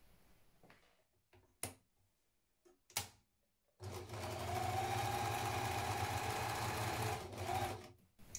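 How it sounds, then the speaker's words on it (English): An overlocker serging down the raw edges of blouse fabric starts after a few soft handling clicks and taps, then runs as a steady, close, rapid mechanical whirr for about four seconds before slowing and stopping. "I'm going to just overlock down the edges, the raw edges of each side first of all"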